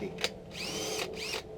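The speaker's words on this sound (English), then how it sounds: "Oh, to drill the hole." A power drill boring a hole during work on a Mazda Miata widebody flare build, heard as two sustained whirring bursts with a rising-then-falling pitch, separated by a short pause, close up and without talk.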